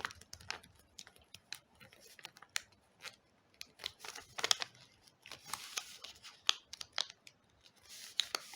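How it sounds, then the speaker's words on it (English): Paper is folded and creased for an origami heart envelope, close and quiet, with a series of crisp crinkles, scrapes and soft taps at an irregular pace. "So you can fold it like this, following the lines."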